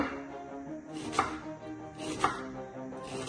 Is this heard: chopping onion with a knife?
yes